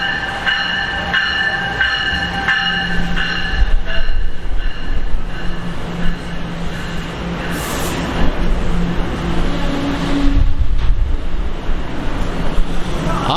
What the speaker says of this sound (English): here now at 11:24 a.m. is Montclair Boonton Line train number 6226 en route to New York Penn Station